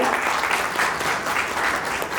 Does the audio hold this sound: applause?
yes